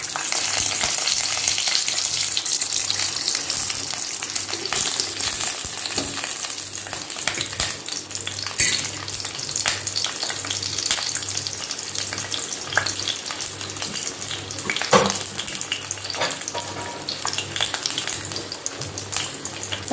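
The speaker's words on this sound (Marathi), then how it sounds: "आता मी शिमला मिर्च कढईमध्ये घालत आहे।" Capsicum frying in about two spoons of oil in a kadhai over a low flame gives a continuous close sizzle with occasional crackles and stirring scrapes, steady throughout and free of talk.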